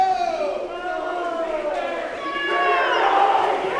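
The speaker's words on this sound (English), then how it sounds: "You can hear the crowd getting into it." A crowd of fellow swimmers cheers and shouts at a boys' high school swim meet between Tomahawk and Medford during a close race. The yelling is steady and builds louder toward the end, with shrill voices rising over the din.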